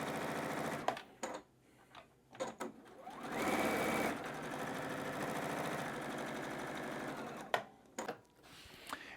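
A sewing machine stitching a straight quarter-inch seam through batik fabric, running in short whirring runs with pauses, one longer steady stretch in the middle, fairly quiet.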